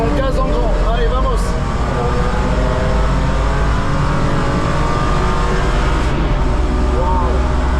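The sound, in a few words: rented BMW accelerating at full throttle on the Nürburgring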